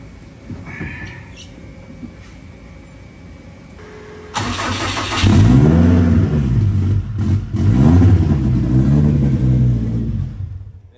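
A Honda car engine with a new custom exhaust and turbo cranks and starts, idling with a whine before roaring louder, revving repeatedly with a deep, throaty exhaust rumble close by.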